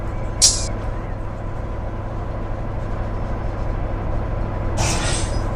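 Air brakes on a rail car in Run 8 Train Simulator, two sharp hisses, one brief near the start and a longer one near the end, over a steady low rumble of the train.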